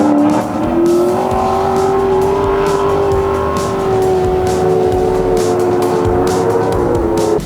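A drift car at Taupo International Motorsport Park during a D1NZ championship round accelerates hard, engine roaring loudly and steadily close by, with squealing tyres and rising revs throughout.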